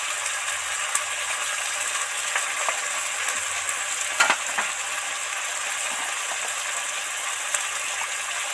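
Bagda shrimp curry with turmeric, chili powder and a splash of water sizzles steadily in a pan, a constant close hiss with a few faint scrapes and clicks.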